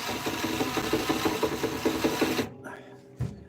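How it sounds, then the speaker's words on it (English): A power drill fitted with a small tip spins the machine heads to wind strings onto a guitar, giving a fast, rhythmic mechanical whirring for about two and a half seconds before stopping abruptly, then a single knock. "With a drill, it's just like you can do it really fast."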